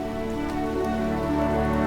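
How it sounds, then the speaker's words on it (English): Rain falls steadily in the video game My Time at Sandrock, a continuous even patter over soft game music tones, with no talk. "And it's raining. Raining in Sandrock."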